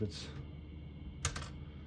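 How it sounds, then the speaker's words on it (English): On a 1969 Smith-Corona Classic 12 portable typewriter, the all keys down button gives two faint mechanical clacks, one at the start and one a second later, against a quiet room. "this all keys down button, like if you hit 2 keys at the same time, it'll get stuck up there"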